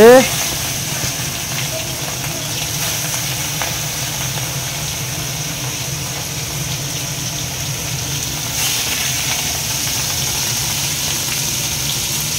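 Tiger prawns fry in hot mustard oil in a kadai with a steady, even hiss and sizzle that runs throughout at moderate level, while a person talks over it.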